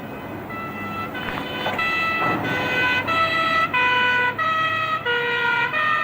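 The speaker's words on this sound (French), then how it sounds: "Une deuxième ambulance." A second ambulance siren in a 1985 French TV drama cycles through its alternating two-tone wail, growing louder as it approaches over background road noise.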